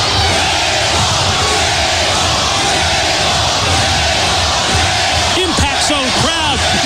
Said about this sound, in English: Impact Zone crowd roars their approval.